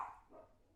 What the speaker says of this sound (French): Désolé pour le chien.